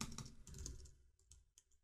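Code being typed on a computer keyboard: a quick close burst of clicking keys, then a few sparse taps trailing off, with no talking.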